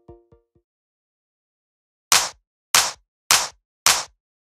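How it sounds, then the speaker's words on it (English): A clap drum sample fires four times in an even rhythm, each a crisp, bright, snappy hit. A few faint tonal blips come first, then a short pause before the claps. "And the clap is Kashmir Classic Clap 2."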